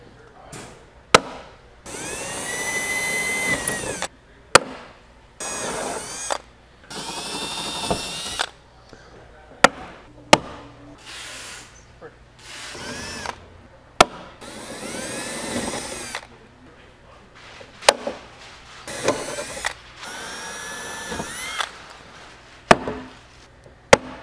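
Camaro drag wing struts are being riveted in place, with short bursts of a power rivet tool whirring close by, each ending in a sharp snap, repeated many times with pauses and some quiet talk between.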